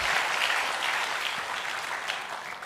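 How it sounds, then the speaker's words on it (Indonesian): A church congregation claps together in a sustained, dense burst of applause that fades slightly toward the end, with no one speaking. "Berikan tepuk tangan kita untuk Tuhan kita"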